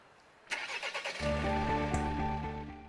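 A Volvo XC60 started remotely from a phone app cranks with a short run of starter pulses, then catches into a steady, even idle with a faint low hum, heard close and alone on a cold day.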